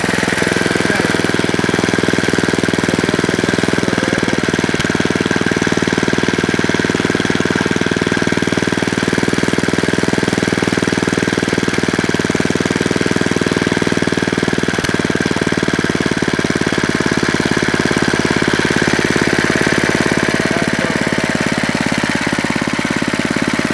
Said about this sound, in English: I'd like to get it to idle a little bit lower. It seems like it only gets so low, and then it shuts off.